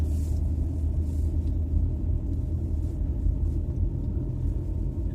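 Car driving along a rough road in the evening, a steady low engine and tyre rumble heard from inside, continuous and fairly loud with no talking.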